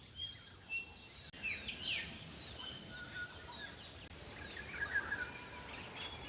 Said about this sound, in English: Birds chattering.